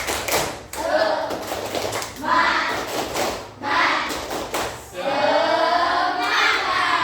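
A class of children performs the 'tepuk semangat' spirit clap, with loud bursts of patterned group clapping separated by short pauses and young voices chanting along.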